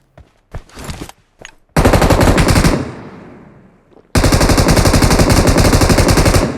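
Gunfire in PUBG Mobile: a few isolated shots open, then two long, loud bursts of rapid automatic fire, with a fading echo tail between them.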